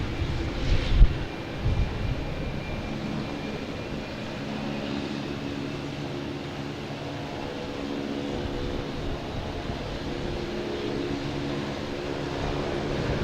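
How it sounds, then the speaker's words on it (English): A Delta Airbus A321neo arriving from Minneapolis at Boston Logan Airport drones steadily at a distance, a low sustained engine rumble mixed with wind buffeting and a couple of brief thumps near the start. "We have a Delta coming in from Minneapolis."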